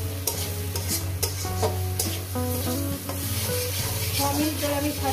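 Water spinach (kolmi shak) greens frying and being stirred in a pan, a steady sizzle under scraping stir strokes and a constant low hum, with tonal background music, no talk.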